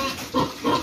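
Pigs at a backyard piggery give two short, close grunts in quick succession over a steady background hum.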